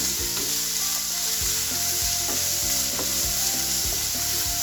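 Onions sauté in a pan as a base for soya chunk cutlets. A bright, close sizzle carries on steadily, punctuated by regular spatula knocks and scrapes against the pan. Nobody speaks.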